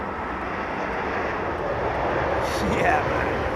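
An Emirates A380 at the airport produces a steady broad jet rumble that swells a little near the end, with a brief faint high chirp over the roar.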